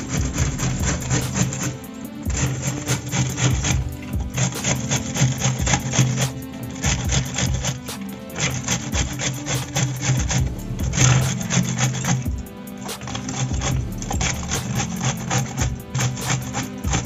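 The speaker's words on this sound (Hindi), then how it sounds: "इसको इस तरीके से घिस लेंगे। थोड़ी बारीक बारीक घिसना है।" Washed vegetables being grated finely on a grater for veg momos, producing loud, continuous rasping strokes in a steady repeating rhythm with brief pauses between passes.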